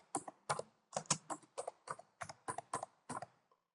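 Keyboard typing on a computer while setting up Work Folders on Windows Server 2012 R2, a quick run of about ten crisp, evenly spaced keystrokes, close and clear with no talking.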